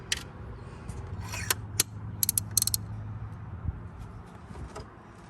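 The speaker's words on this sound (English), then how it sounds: "Now we can work on taking the plugs out." Socket ratchet working on tight spark plugs in the engine of a Mini Cooper R53 being repaired for a misfire, with a few quick metallic clicking bursts and creaks over a low hum, close and without speech.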